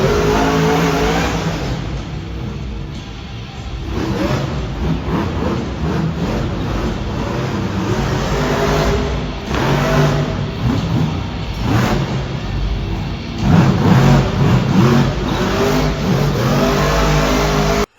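A monster truck engine fitted with the new Monster Jam-mandated muffler revs loudly and steadily up close in an arena, with repeated surges of throttle over a continuous deep roar.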